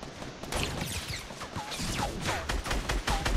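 Gunfire from a fight in the battle royale game Fortnite, a dense stream of overlapping shots and impacts with whizzing effects, continuous and moderately loud, with no speech.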